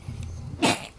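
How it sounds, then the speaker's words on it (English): A single sharp sneeze from a podcast host, a quick breathy burst following a faint intake, short and close. "Sorry, I had to sneeze."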